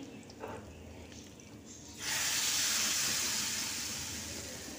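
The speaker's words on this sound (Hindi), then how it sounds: "जैसे ही प्याज का कलर बेहतरीन सा गोल्डन हो गया तो बस हम लगा देंगे इसमें अब तड़का।" Hot tadka with golden fried onion hits a pot of dhaba-style lauki mixed dal, breaking into a sudden loud sizzling hiss after a quieter start, then slowly fading while it keeps crackling up close.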